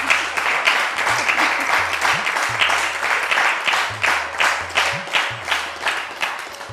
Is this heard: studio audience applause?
yes